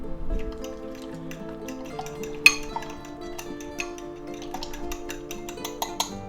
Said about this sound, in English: Now to that we're going to add some spinach leaves. And we're going to go ahead and mix them in.